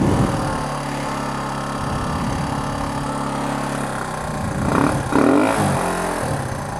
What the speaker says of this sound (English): So run it at a slightly higher RPM